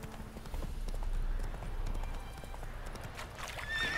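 Roach the horse trotting in The Witcher 3, steady clip-clop of hooves close up with a brief whinny, over continuous outdoor game ambience.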